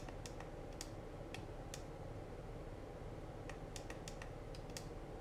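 Buttons on an X9D+ radio transmitter are pressed while a model name is typed, giving faint, irregular clicks in small bursts over a steady background hiss, with no talking.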